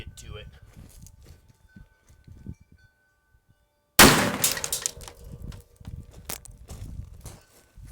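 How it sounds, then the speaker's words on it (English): A shotgun shell blasts through a rough-cut wooden board outdoors, one sudden loud report after a near-silent lull, followed by a ringing, scattered decay. "we're going to see what 4 different types of shotgun shells will do to this board"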